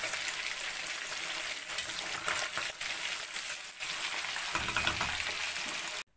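Fish frying in hot oil, Lahori style, a dense continuous sizzle and crackle heard up close, steady throughout before cutting off abruptly at the end.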